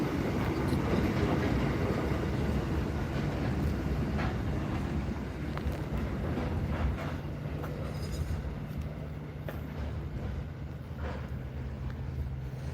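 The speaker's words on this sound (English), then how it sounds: "Right, well, there goes that train." Train rolling past at Junee, a broad, loud rumble with wind buffeting the microphone, steady throughout and easing slightly toward the end, with no talking.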